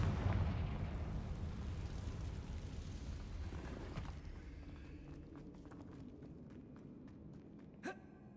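A Confringo fire spell in Hogwarts Legacy bursts with a loud, rumbling blast in an old abandoned mine, then fades into a long decaying tail with faint footsteps and a small sharp crack near the end.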